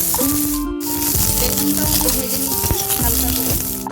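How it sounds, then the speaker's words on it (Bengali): Pointed gourd (potol) frying in hot oil in a kadai, a loud continuous crackling sizzle close up, with clinks of a utensil and a faint background tone. "এবার পটলটা ওই একই তেলে ভেজে নেব।"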